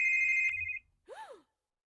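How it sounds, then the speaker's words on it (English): Phone ringing in a horror video game: a steady electronic ringtone tone lasting under a second, then a short rising-and-falling chirp tone, clear and close in near silence. "Answer the phone, girl."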